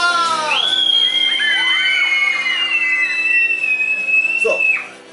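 Loud crowd of children shouting together at a community children's festival with a clown, sustained yelling with a rising whoop-like tone for about five seconds before cutting off.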